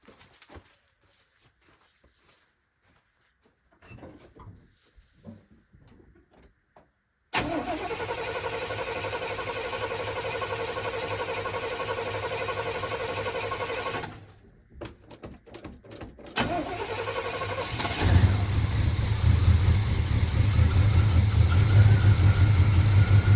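A Chevrolet C10 barn-find pickup truck cranks briefly, then its engine catches and runs loud and steady, dips for a moment, then settles into a rougher, louder idle, heard close with no talking.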